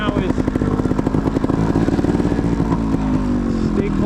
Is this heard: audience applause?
no